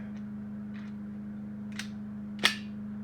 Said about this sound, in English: we're going to fire 1 full mag